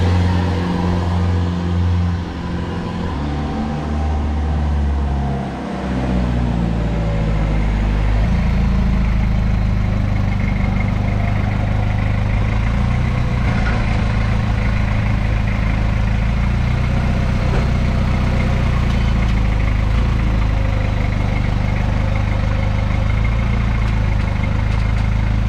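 A car engine running after a jump start on a flat battery: a loud, steady idling drone with a low hum that settles after a slight shift in the first few seconds, with no talking.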